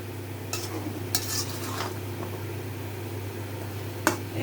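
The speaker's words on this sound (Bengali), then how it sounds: "মশলাটা ভালো করে মিলাই দিতে হবে।" Spice paste being stirred into bottle gourd and shoil fish curry in a pan: a few scattered scrapes and clinks of a spoon over a steady low stove hum, with faint sizzling between strokes.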